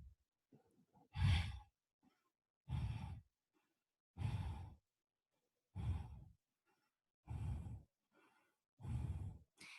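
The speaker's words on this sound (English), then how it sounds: "Belly in, release. Belly in, release. Making sure that you follow it with your breath." Six sharp exhaled breaths come at regular intervals during a yoga belly-breathing exercise, each a brief forceful whoosh separated by near silence, close and fairly quiet.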